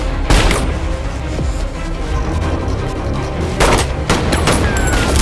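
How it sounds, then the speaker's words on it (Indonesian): Loud, close bursts of gunfire crackle in rapid volleys, mixed with sharp crashes and booms, in a chaotic film shootout at a hunters' post. "terjadilah baku tembak di antara mereka."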